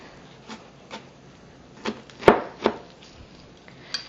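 Knife chopping fresh jalapeno peppers on a cutting board for stuffed chicken breast, a string of sharp, separate thuds at an uneven pace, with one louder strike in the middle, close and without talk.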